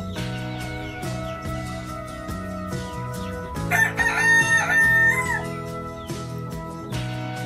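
Several chickens cluck and squawk in a coop while a rooster crows loudly in the middle, nearby, with steady clucking throughout.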